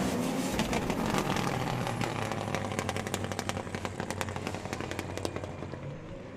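Drift car on throttle at the Emirates Drift Championship, a distant engine droning steadily with sharp crackling pops and bangs from the exhaust scattered through it, heard from trackside.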